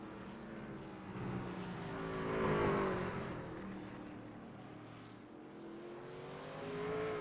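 A Sportsman Legacy series race truck drives laps at Portland International Raceway, its engine drone swelling as it passes closer around the middle, easing off, then building again at the end; moderately distant and continuous, with no talk.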